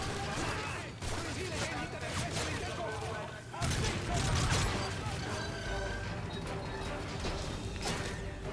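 Dense, sustained gunfire from a Call of Duty Modern Warfare 3 battle, with overlapping shots and explosive crashes forming a continuous loud din, swelling midway, while someone talks over it.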